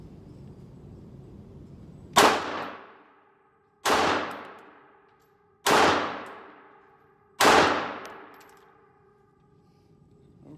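Four loud, sharp Glock 42 pistol shots at a shooting range, spaced about two seconds apart, each ringing out with a bright metallic decay.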